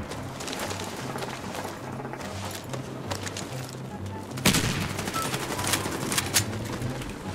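Gunfire in the online shooter Warface, sustained crackling shots over a busy background, with a sharper cluster of louder reports partway through and continuing after, no speech.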